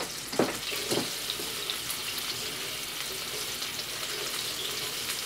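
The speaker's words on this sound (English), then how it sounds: "wash my hands, soap and water, so I can flip the other ones" Tap water runs steadily into a sink during handwashing with soap after handling raw meat in a home kitchen, a constant hiss with a couple of brief splashes near the start and no talk.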